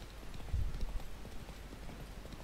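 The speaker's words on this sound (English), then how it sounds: "Spooking my horse." Horse hooves clip-clop in the video game The Witcher 3, a soft rhythmic trot of muffled hoofbeats over low background ambience, faint and steady without speech.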